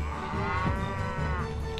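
A cow moos in the video game Rock of Ages 2, one loud, drawn-out call close to the listener that lasts almost two seconds over light game background noise.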